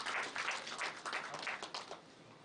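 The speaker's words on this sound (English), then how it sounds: "please welcome her with a big round of applause" Audience applause welcoming a speaker at an international management conference, a steady wash of many hands clapping that fills the clip from start to finish without any talk.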